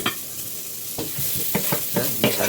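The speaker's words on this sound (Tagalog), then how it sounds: "start na tayo mag-gisa. Una natin yung bawang dyan. At isunod natin ng sibuyas" Garlic and onion sautéing in a hot pan, a steady sizzle broken by several sharp stirring scrapes and clatters of a utensil, close and fairly loud, with no talking.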